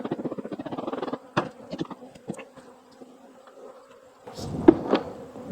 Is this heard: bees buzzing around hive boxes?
yes